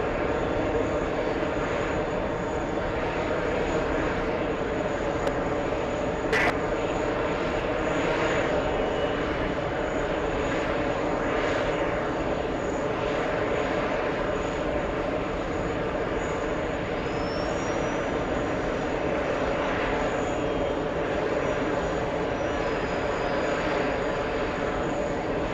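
A British Airways jet lines up for takeoff at New York, its engines holding a steady, broad hum that stays level throughout, with faint voices in the background.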